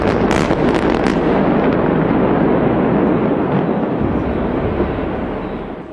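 A massive bridge demolition explosion in Genoa booms into a long, heavy roaring rumble, with sharp crackles early on, the noise slowly fading near the end.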